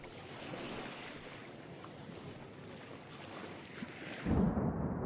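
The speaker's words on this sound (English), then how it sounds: "The wind's picking up" Wind and waves at sea in a video game: a continuous roaring gusty wash with surging surf, growing heavier and louder near the end.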